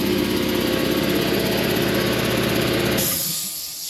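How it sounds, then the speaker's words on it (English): Air compressor running with a loud, steady mechanical drone and rattle in a garage, cutting off abruptly near the end and leaving quieter surroundings. "Oh, god dang compressor."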